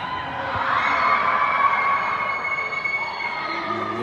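A crowd at an ice hockey game roars and yells as a goal is scored, a sustained loud surge of cheering voices heard from a distance across the arena.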